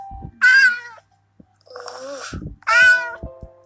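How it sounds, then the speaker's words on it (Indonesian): A cartoon cat meows three times, each call loud and close, with short quiet gaps between them and a few faint knocks in the background. "Dasar kucing gembul."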